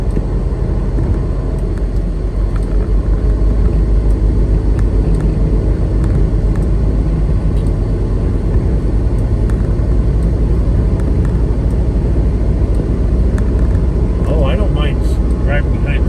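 Strong 25 to 30 mph wind in near-blizzard whiteout conditions near Dayton, Ohio, at 29 degrees, heard as a loud, steady, unbroken roar and rumble that never lets up.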